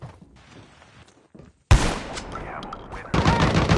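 Shotgun blasts from Call of Duty Mobile gameplay: faint muffled activity first, then a loud sudden blast, a stretch of dense crackling gunfire, and another burst near the end.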